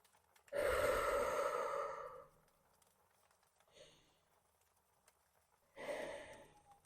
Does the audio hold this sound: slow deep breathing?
yes